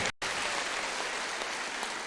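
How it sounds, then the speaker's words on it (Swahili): Church congregation applauding together as an offering, a dense steady wash of clapping after a brief silent gap at the start. "Jipigieni makofi"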